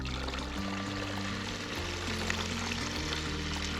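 Water pours steadily into the reservoir of a Greenstalk vertical planter, a continuous rushing stream with a shifting low tone as the container fills, heard alone.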